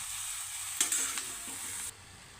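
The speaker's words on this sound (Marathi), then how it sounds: "भाजी घालून झाल्यानंतर ती व्यवस्थित अशी परतून घ्यायची" Fenugreek greens stir-fried in a pan: a close, soft sizzle with a brief burst of spatula scraping and tossing before it cuts off, and no one speaking.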